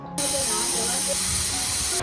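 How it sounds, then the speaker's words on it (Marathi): A pressure cooker vents steam through its whistle while mutton cooks in a Malvani-style meal, a loud continuous hiss filling the short moment from start to end. "आता हे कुकरच्या 4 ते 5 शिट्या काढून घेऊया"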